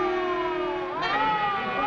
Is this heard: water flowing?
no